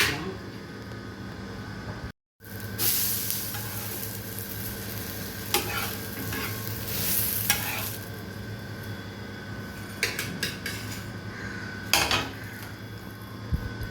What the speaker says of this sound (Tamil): தோசை ஊற்றிக்கலாம்.